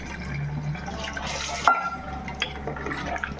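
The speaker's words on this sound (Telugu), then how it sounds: "ఇంకొక వాటర్ అయితే పోస్తున్నాను." Water is poured from a vessel into a pot of mutton curry on the stove, a brief splashing gush followed by scattered drips and a bubbling simmer, close and moderately loud.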